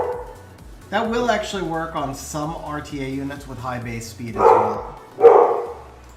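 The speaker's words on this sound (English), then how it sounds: "I'm pretty sure that the puppy is coming through on stream." Puppy barking in the background of a live game stream, a few short yips breaking through near the end while someone talks steadily over them.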